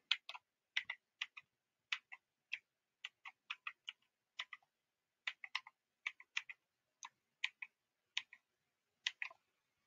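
Rapid keystrokes on a computer keyboard with chattering keys, crisp clicky taps in quick bursts and short pauses, close and fairly quiet with no talking.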